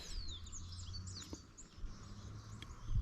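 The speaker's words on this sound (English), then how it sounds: "You can hear some birds singing everywhere." Faint bird chirps and calls scattered over a low outdoor rumble in a Kenyan village, distant and soft, no one talking.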